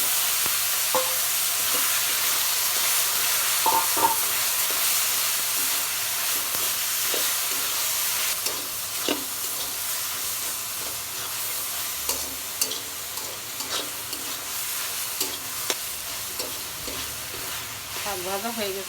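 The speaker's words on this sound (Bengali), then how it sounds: "শাকটা ঢেলে দিচ্ছি" Leafy greens frying in hot oil with onion and garlic, a loud, continuous sizzle and hiss with occasional scraping and stirring clatter throughout.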